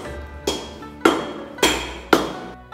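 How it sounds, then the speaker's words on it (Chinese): Four loud, evenly spaced hammer blows ring out on steel being forged into a Longquan sword, each strike sharp and metallic with a short decaying ring, alone without talk. "especially when I'm like hammering the steel and I'm seeing the sparks coming up"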